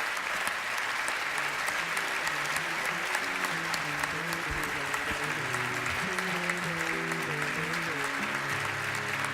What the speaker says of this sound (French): Faites du bruit pour Antoine